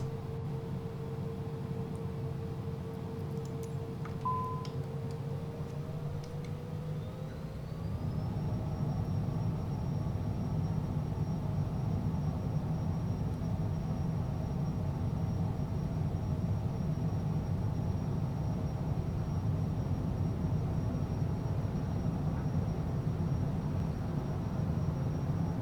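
An airliner taking off in Microsoft Flight Simulator 2024, engines spooling up with a rising whine, then a steady, loud broadband roar holding through the takeoff run.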